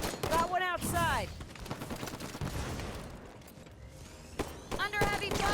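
Heavy gunfire in a competitive tie-breaker video game match, sharp bursts of shots in clusters near the start and again near the end, with game voice and announcer-style speech woven among the loud reports.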